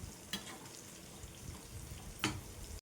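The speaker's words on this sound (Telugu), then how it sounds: "ఈ విధంగా వేయించుకుంటే మంచిగా వేగుతాయి" Capsicum bajji deep-frying in oil, a faint steady bubbling sizzle with two brief louder stirring scrapes, heard quietly from nearby.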